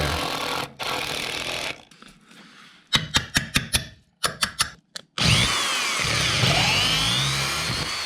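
Someone drills a hole through a steel plate while replacing a house's foundation sill. A brief whirring run gives way to a series of sharp stuttering bursts with short pauses between them, then a long sustained grinding drone, close and fairly loud.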